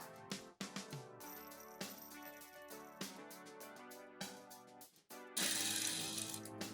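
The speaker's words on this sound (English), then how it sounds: "I'll sew along this place, stop here and jump back to this place. Now let's sew." A sewing machine stitching a trouser hem runs in short mechanical bursts of clicking, whirring stitches with brief stops between them, then ends in a longer continuous run. It is close and fairly quiet, with no talking.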